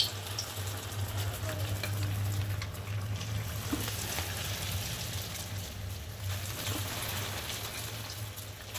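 Coated chicken pakoras deep-frying in hot oil give a continuous, even bubbling sizzle at moderate level, with a low steady hum underneath and no talk.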